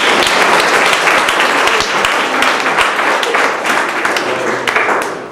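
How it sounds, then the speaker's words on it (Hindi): Loud, dense audience applause at a live Hindi poetry recital, a steady wash of many hands clapping that holds for about five seconds before easing slightly at the end. "एक बार जोरदार तालियां बजाएं।"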